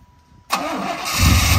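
A 1993 Chevy Silverado Z71 truck engine cranks and catches after a short quiet pause, then settles into a loud, steady idle close by, with no talking.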